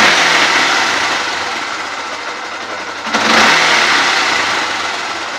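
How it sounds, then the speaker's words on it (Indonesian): A Yamaha Byson motorcycle engine runs close by at a steady idle, settling slightly before a brief rev lifts the level around the middle, then holds at a raised, even rumble; no voices. "Dan untuk kalau gue nyalain mesinnya ya"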